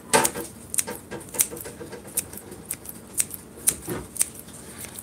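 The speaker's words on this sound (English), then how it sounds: "And then take my kitchen scissors and just quickly." Kitchen scissors snip through a bunch of cilantro in a home kitchen, a series of sharp crisp cuts at a quick, slightly uneven rhythm, close and clear against a quiet background.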